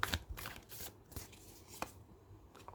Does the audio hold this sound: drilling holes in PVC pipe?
no